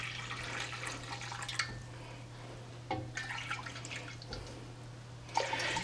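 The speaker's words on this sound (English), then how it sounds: "I'm just going to add a little water to mine and nothing more. Put a little water down in here." A little water poured into a pan holding a roast beef, gentle splashing and trickling in short bursts, close but quiet over a steady background hum.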